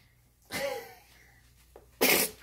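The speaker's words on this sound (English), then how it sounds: "he sneezed in my eye" A small child sneezes twice at close range, two sharp bursts about a second and a half apart, with faint household background between.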